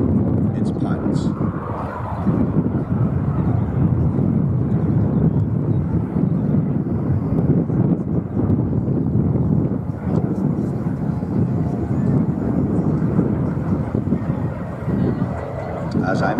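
A WWII fighter plane with an Allison liquid-cooled V12 engine of 1,150 horsepower passes at an air festival at Biggin Hill, a steady low roar mixed with wind noise and a commentator's voice.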